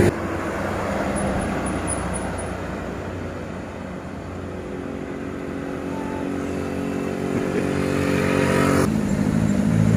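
A Mitsubishi Canter truck's engine drones steadily and loud as it labors up a steep incline at Sei Lukut, Perawang, Riau, the pitch holding under strain before the revs swell toward the end.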